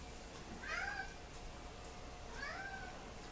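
A cat meows twice, well spaced, each call a short rising-falling mew, fairly faint against a quiet room hum with no talking.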